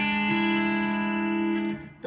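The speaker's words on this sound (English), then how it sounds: "So now your first three strings sound like this." The first three strings of a B-bender electric guitar ring out as one sustained, bright chord with a slight effects-unit tone, steady and close, fading at the end.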